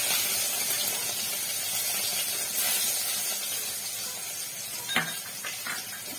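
Mustard seeds and grated garlic sizzle in hot oil for a steady, close hiss, with a few sharp pops and crackles breaking through near the end.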